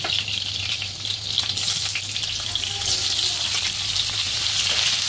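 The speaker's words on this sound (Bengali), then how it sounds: "এবার পেঁপে কচুরগাটি আর কি কাঁচকলা এটি পরে এদিকে একটু হালকা হালকা ভাজা করে দিই।" Papaya, taro stems and green banana frying in oil for a mixed hilsa dish, a loud continuous close sizzle with faint crackling and no talk.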